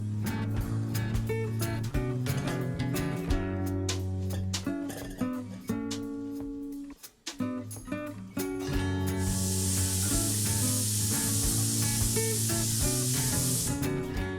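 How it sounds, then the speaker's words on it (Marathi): A pressure cooker on the stove with mutton inside releases steam as a loud, steady hiss, its whistle going off over a background of music. "पाच शिट्ट्या झालेल्या आहेत आणि कुकरची शिट्टी सुटलेली आहे"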